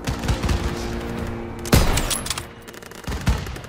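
Gunfire in the Call of Duty: WWII game during a São Miguel fight, loud sharp shots and bursts over a rumbling battle bed, with a heavy blast near the middle and another burst near the end.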